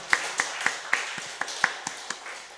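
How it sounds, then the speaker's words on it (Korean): Church congregation clapping during a Sunday worship service, about a dozen crisp, fairly even claps close by, with no cheering and no talk. "하나님께 영광 박수 올려드립시다"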